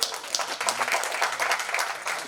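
Applause from a press-meet audience at a wedding event for actor Arjun's daughter, greeting Arjun and Thambi Ramaiah: steady, dense clapping that stays loud for the whole stretch, with no voices above it.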